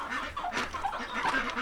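Chickens cluck and mutter softly at an off-grid homestead during morning feeding, a scattering of short calls at moderate distance over a low outdoor background.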